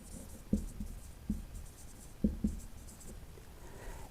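Pen strokes as an example chemical formula is written by hand during a chemistry lesson, a few soft scratchy taps and short strokes at an irregular pace, close and quiet with no talking.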